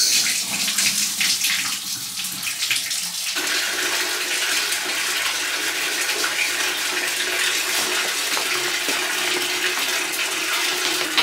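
A bathtub filling from the tap, with water rushing in steadily as a loud, continuous wash of splashing that grows fuller after the first few seconds and runs on alone, with no voices.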